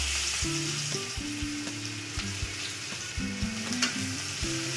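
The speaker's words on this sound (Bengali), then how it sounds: "পেঁয়াজটাকে একটু লাল লাল করে ভেজে নেব।" Finely sliced onions frying in oil with black cumin over low gas flame, a constant close sizzle with occasional stirring clicks, under faint background tones.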